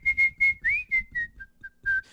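A man whistles a melody, a clear, close, solo tune of short rhythmic notes with one rising slide, no other sounds.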